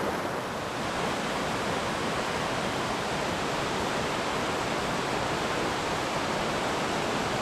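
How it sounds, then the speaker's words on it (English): River water rushes steadily through Quechee Gorge in Vermont, a dense continuous roar heard from a distance, unbroken throughout with no voices. "you can look up the gorge where the water comes down"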